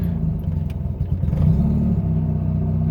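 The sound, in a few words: 1985 GSL-SE car engine starting, struggling to idle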